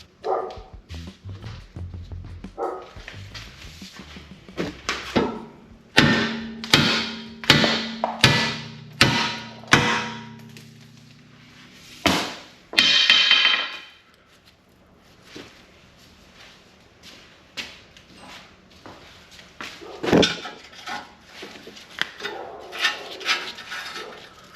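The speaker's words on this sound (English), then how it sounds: "we're gonna try a big old sledgehammer and see if that works" A sledgehammer strikes a rusted, seized torque arm bolt on a 1992 Firebird in a series of loud, sharp metallic blows, clustered and irregular, followed by a few scattered knocks.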